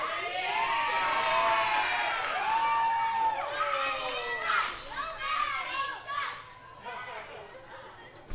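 A wrestling event crowd cheers and shouts loudly, with many excited voices rising and falling together in a continuous roar that eases slightly toward the end.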